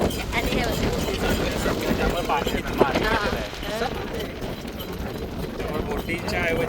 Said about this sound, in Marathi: बोटीच्या ऐवजी आम्ही घोडा घेतो.